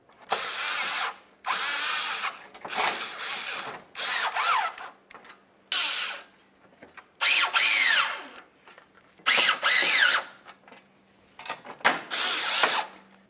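Bolts on a 1999-2003 Toyota Solara radiator shield being run in with a power driver: about eight separate whirring bursts, close and loud, separated by short pauses, with no talk.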